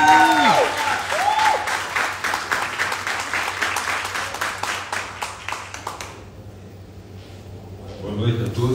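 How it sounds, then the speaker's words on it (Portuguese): An audience at a lecture on federalism claps in a dense burst of applause that thins and fades over several seconds, with speech heard over the start and a voice returning near the end. "Salva de palmas do nosso público."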